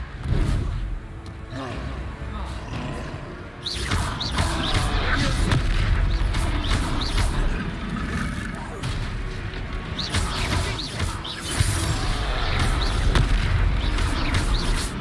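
Repeated Confringo spell explosions in Hogwarts Legacy during a boss fight, loud booms and crashes layered in dense game audio with a continuous roar and bursts of impact.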